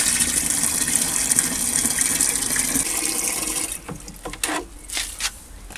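Water pours steadily from a watering can into a freshly planted hanging basket, a continuous splashing gush that breaks into a few intermittent pours and trickles as the flow is slowed.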